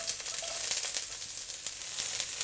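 Sliced red onion frying in hot oil in a pan, a steady bright sizzle with crackling pops throughout, close and alone.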